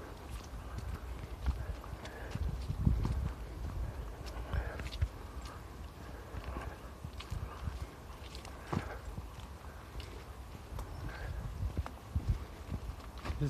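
Small donkeys' hooves clop on a hillside, heard at a distance as faint, irregular footfalls scattered over a steady outdoor background.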